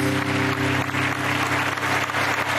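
A television game show studio audience applauds, a continuous, even burst of clapping with a low steady hum of music underneath.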